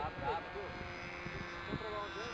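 A model Extra 300 low-wing airplane on its first flight drones steadily overhead, its motor a thin continuous whine with slight pitch swells, while people talk nearby.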